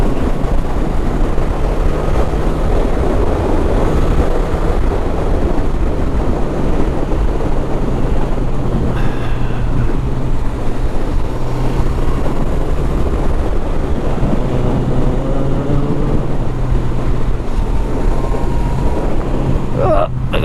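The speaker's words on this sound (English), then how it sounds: "It's a nice little revvy engine on this bike." Steady motorcycle engine drone with wind buffeting throughout on a ride in South Wales, the pitch rising and falling as the rider revs, with occasional talk over it.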